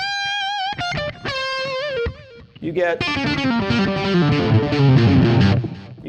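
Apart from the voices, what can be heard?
electric guitar played through a distortion effect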